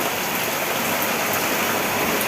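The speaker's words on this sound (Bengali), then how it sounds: "কেমন বৃষ্টি হচ্ছে" Heavy rain pours down in a dense, even hiss that stays loud and unbroken throughout, with no voices.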